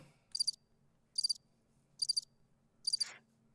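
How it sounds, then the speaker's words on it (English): A crickets sound effect chirps in four evenly spaced short trills, high and clear against a quiet, faintly humming background. "That's what I heard. Crickets."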